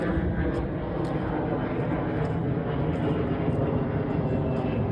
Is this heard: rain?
no